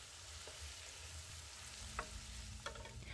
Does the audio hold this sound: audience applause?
no